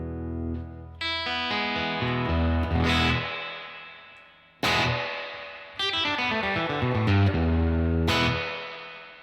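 Electric guitar on the bridge pickup through a Dream '65 amp model with reverb cranked and greenback speaker, played in loud strummed chords with long reverb tails washing out between strikes, no talking.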